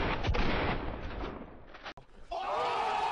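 Gunfire from a mobile battle royale shooter played on a smartwatch, with a sharp close shot near the start and another abrupt crack around the two-second mark, set against dense game noise and a steady tonal hum afterward.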